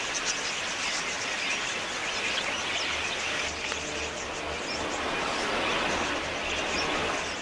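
Many parrots gathered at a feeding site make a dense, continuous wash of chirps and chattering calls, steady and fairly loud throughout with no talking.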